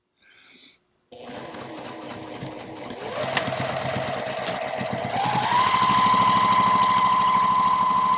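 A sewing machine stitching quilt rows, a steady close mechanical whirr that starts after a brief spoken word, then climbs in pitch and loudness as it speeds up and runs on at a constant rate.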